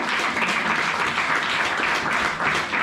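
Children applaud and cheer loudly together in a church service, a dense, steady wash of clapping and voices that runs unbroken from start to finish.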